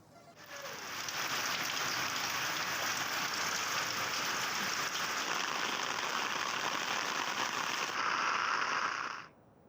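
Heavy rain pours down in a steady, dense roar that starts abruptly, holds loud and unbroken, then cuts off near the end, with no voices.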